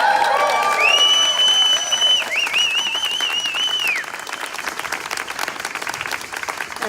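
Crowd at a gun safety rally cheers and applauds loudly, whistles and shouts rising over steady dense clapping that carries on for several seconds.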